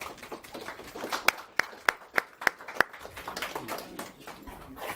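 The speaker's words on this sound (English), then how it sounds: "Everybody give a round of applause" A handful of hands clap at a book launch, about six sharp, separate claps in a quick run that are fairly faint. Quiet room murmur fills the gaps before and after.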